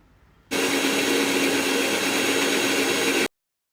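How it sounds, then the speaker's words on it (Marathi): A mixer grinder blends coconut, coriander, garlic and ginger into a paste, starting abruptly with a loud, even whirring roar that holds steady for about three seconds, then cuts off into silence. "हे सर्व वाटण आपण मिक्सरच्या भांड्यामध्ये घेऊन ते बारीक करून घ्यायचं आहे"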